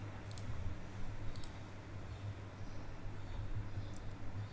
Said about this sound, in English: then click on change plan settings, then click on change advanced power settings